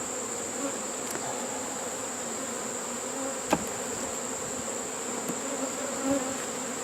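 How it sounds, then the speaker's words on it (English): Honeybees buzz steadily around a swarm trap while frames are being added, a soft continuous drone with a few individual bees passing close by. "These bees are surprisingly gentle."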